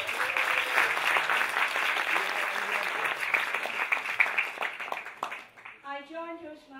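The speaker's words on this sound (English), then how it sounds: "Give yourself a big round of applause." A Toastmasters audience applauds with dense, steady clapping that fades toward the end, where a voice begins speaking.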